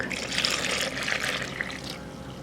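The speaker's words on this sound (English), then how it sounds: "Now I'll pour in my 2 cups of milk." Milk pours steadily into a bowl of pudding mix in a continuous splashy trickle for a couple of seconds, close by, with no voices.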